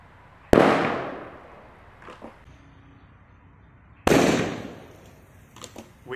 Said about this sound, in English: So our soda bottle bomb is now armed. Let's place it somewhere and allow gas pressure to do its magic.